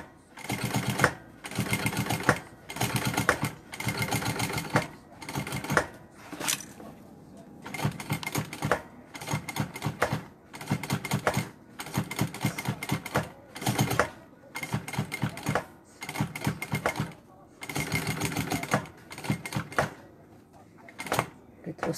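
A sewing machine stitches a fabric bag in loud, repeated bursts of rapid mechanical chatter separated by short pauses, with a voice speaking between runs.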